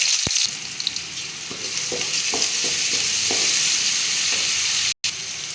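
Chopped onions and mustard seeds sizzle and crackle steadily in oil in a pan with occasional stirring clatters, a loud, continuous frying sound up close.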